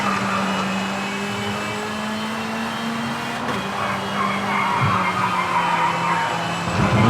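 A rallycross car in the racing game V-Rally 4 driving hard, its engine droning at a steady pitch before shifting, with tyre skids and squeals swelling toward the end, loud and close with no talk.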